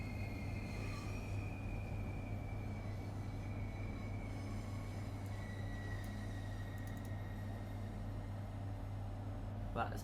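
A Class 395 Javelin electric train in Train Sim World 4 runs with a steady low mechanical hum and faint high whine, continuous and even throughout the early morning run.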